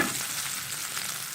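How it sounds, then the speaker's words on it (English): Chopped cashew nuts and red chilies sizzle steadily in hot oil in a frying pan, a continuous bright crackle with faint scraping of stirring, close and without talk. "Chopped cashew nuts. Chopped red chilies. Then just stir."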